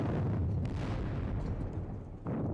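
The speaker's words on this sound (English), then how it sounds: "And a lot of cannon fire." Cannon fire in a Napoleonic wargame at Valmy, repeated booming artillery shots over a continuous low rumble, with a fresh blast near the end.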